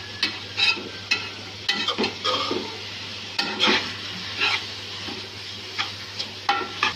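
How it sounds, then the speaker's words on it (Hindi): Carrots fry lightly in a pan for a rice dish, a soft sizzle underneath irregular stirring scrapes and clinks from a utensil, repeated every second or so with a low steady hum behind. "अब हमने इसको हल्का सा फ्राई करना है गाजरों को।"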